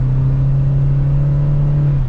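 A 2024 Toyota Corolla Cross XSE AWD hybrid with a CVT accelerating at full throttle, giving a steady, loud, sustained whine over an even engine drone that holds without a break and drops off at the very end.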